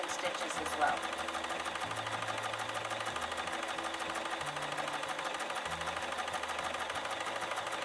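A Bernina sewing machine runs steadily while stitching hand-look quilting stitches, a continuous close mechanical hum with a rapid stitching rhythm that shifts in pitch as the stitch pattern changes, with a voice talking over it.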